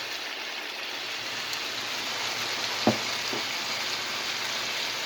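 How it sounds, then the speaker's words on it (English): Steady sizzling and crackling of Jamaican-style oxtails with browning sauce frying in a pan, with a couple of small pops near the middle. "And I'm frying it up,"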